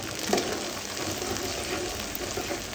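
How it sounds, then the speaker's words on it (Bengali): Onions fry in hot oil in a pan for a rui fish curry, giving a steady, fairly quiet sizzle with a faint stirring clink. "পেঁয়াজটা লাল লাল হওয়া পর্যন্ত ভাজবো।"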